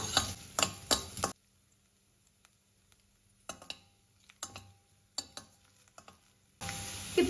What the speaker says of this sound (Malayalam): നന്നായിട്ടൊന്ന് കളർ മാറ്റി നമുക്കിത് വറുത്ത് കോരിയെടുക്കണം